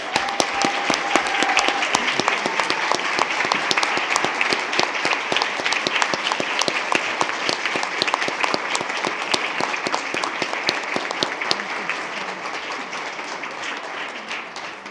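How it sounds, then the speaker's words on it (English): Sustained round of applause from the audience at a school board meeting, dense steady clapping lasting throughout and easing slightly toward the end, with no talk over it. "if you'd all join me in a round of applause"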